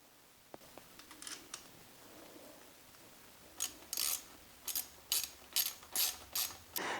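Small screws are ratcheted into a supercharger part on a motorcycle: a few light clicks, then a close run of crisp, rapid ratchet bursts in quick repeated strokes, with no talking.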